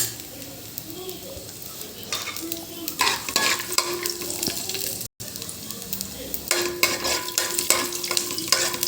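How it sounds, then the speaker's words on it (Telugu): Peanuts frying in oil over a low flame in a pan while tempering for carrot pulihora, a steady soft sizzle with occasional stirring scrapes and clinks, close by and moderately loud, without talk. "పల్లీలు వేద్దాం పల్లీలు లో ఫ్లేమ్ మీద చేద్దాం"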